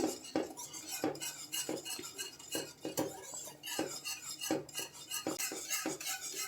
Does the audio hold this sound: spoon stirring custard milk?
yes